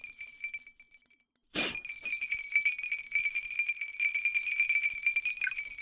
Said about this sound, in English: This case sounds more like glass wind chimes.